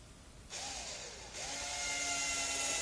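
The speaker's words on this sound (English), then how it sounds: "Drill through one cheek just enough to mark the rudder." A drill bores into a wooden boat rudder, its steady whine starting abruptly and then rising in pitch as the bit bites deeper, loud and close with no speech.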